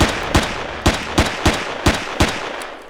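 Pistol shots in the sci-fi survival game Empyrion, seven sharp evenly spaced bangs fired in quick succession, loud and close with short decays.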